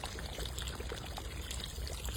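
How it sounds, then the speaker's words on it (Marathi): Water pours into a pan of chicken masala cooked with turmeric, salt and spices, a steady close splashing trickle lasting a couple of seconds with no voices. "चिकन शिजण्यासाठी आपण इथं पाणी घालून घेऊ"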